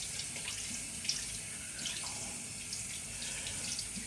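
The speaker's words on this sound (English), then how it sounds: "Go ahead and get this all rinsed off." Running tap water splashes steadily over a shaving brush being rinsed under the faucet, a continuous close hiss with small bursts of splatter and no talking.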